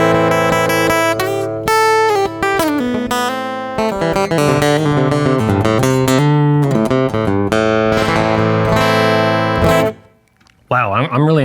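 A Maton EBW70C Blackwood dreadnought acoustic-electric guitar plays through its piezo pickup with flat EQ, giving close, loud picked notes and strummed chords that ring out before stopping abruptly near the end.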